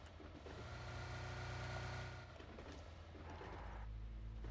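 A car engine in the video game PUBG Mobile hums and revs steadily nearby, rising and falling slightly as it approaches, with a low rumbling drone and no voices.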